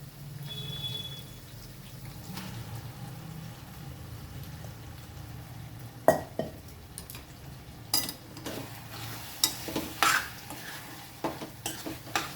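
Chicken is added to a frying pan and stirred for gongura chicken. A low sizzle gives way to repeated close clatters and scrapes of a spoon against the pan in irregular bursts.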